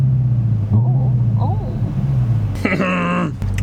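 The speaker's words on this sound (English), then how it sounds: "The new Hellcat. All right, listen to it." The engine of a new Hellcat car rumbles low and steady, then rises into a sharp, loud rev near the end. People talk over the idle before the rev.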